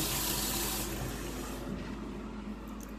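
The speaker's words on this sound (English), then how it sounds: "I don't know why that flusher is so tight got it to flush." A toilet flushes at home, with a rush of water that is loudest at first and then eases into a steadier refill flow, heard close up with no talking.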